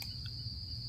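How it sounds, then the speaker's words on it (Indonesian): Crickets chirp steadily at night during a camping trip, a continuous high, even trill that holds alone for the whole second over a low rumble of background noise. "Suara jangkrik."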